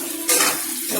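Chicken pieces for a dry fry crackle and hiss in a hot pan, with a burst of louder sizzling as they are stirred, close and alone.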